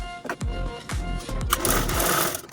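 A sewing machine stitching the bottom seam of a round party-wear potli bag, running in quick bursts of rhythmic clattering needle strokes close by, without speech.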